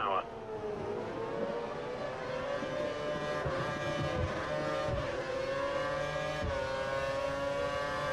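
F1 race car engine from the F1 2013 game at the Malaysian Grand Prix, held at full revs: a continuous high, sustained engine whine with slight pitch shifts, loud and steady throughout, with a brief upshift dip near the start.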